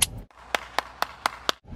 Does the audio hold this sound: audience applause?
yes